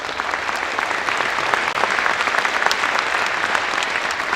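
A roomful of parents at a high school forum applauds school staff, loud, dense and steady clapping that holds evenly throughout without a break.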